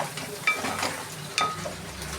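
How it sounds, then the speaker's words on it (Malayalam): Clam meat and grated coconut, Alappuzha style, stirred and fried in a pan, giving a soft steady sizzle with a couple of light scraping stirs of the spoon, close and fairly quiet. "ഈ ചട്ടിയിലിട്ട് നല്ലോണം ഒന്ന് ഉലർത്തി എടുക്കണം"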